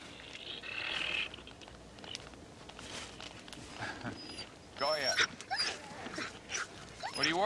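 Sled dogs at a winter night camp whimper and yip softly, a few high whines and short cries scattered among rustling and movement, with a voice speaking over them.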